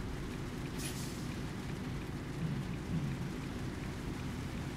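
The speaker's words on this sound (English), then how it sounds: "Man, listen to that rain." Heavy rain in American Truck Simulator pours down steadily, a dense continuous hiss with a low rumbling undertone throughout.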